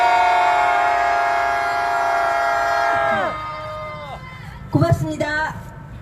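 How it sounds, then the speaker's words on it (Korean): A protest crowd at a Wednesday rally over Japanese military sexual slavery raises a sustained collective shout toward the Japanese embassy. The loud, held roar of many voices lasts about three seconds, then falls away into scattered cheers. "우리 5초 동안 평화의 함성 한번 질러볼까요?"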